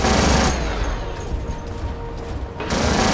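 Robot weapons firing in the War Robots video game: a loud burst of gunfire for the first half second, a quieter mechanical rattling stretch, then another loud burst near the end, with no talking.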